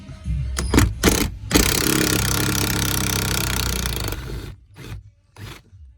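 A power screw gun backs a screw out of the rear extended cab door on a 2000 Ford F-250: a few short whirring bursts, then a sustained loud grinding run, followed by more brief stuttering whirs, close up.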